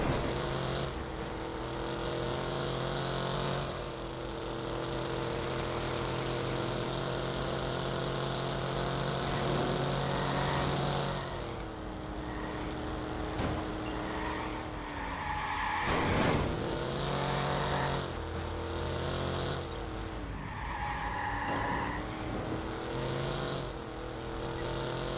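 A car in the Watch Dogs video game drives hard with a continuous loud engine drone that rises and falls, mixed with repeated tire squeals and skids, close and with no talking.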